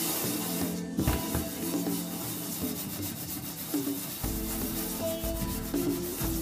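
A brass cymbal is scrubbed clean with solvent and salt, giving a steady gritty rubbing and scraping with short pauses and a few light metallic rings, close up and without speech.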